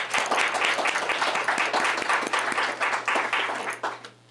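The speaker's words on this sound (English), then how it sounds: "let's give them a round of applause" An audience at a Fairfield University student internship panel claps for the student panelists, a close, fairly small crowd with distinct individual claps over a steady hum, fading out at the end.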